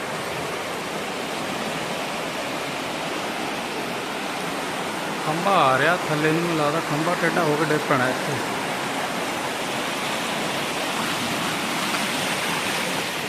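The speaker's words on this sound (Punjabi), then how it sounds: "ਪਾਣੀ ਦੀ ਆਵਾਜ਼ ਤਾਂ ਦੇਖੋ ਕਿੰਨੀ ਜ਼ਿਆਦਾ ਤੇਜ਼ ਆ" Loud, steady rushing of floodwater in Barian Kalan fills the whole stretch, with a person talking briefly over it partway through.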